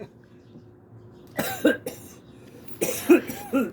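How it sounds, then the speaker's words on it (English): Two separate coughing fits from a smoker with bad lungs, each a few rough, close coughs, with quiet room noise between them. "My lungs are bad, that's why I cough."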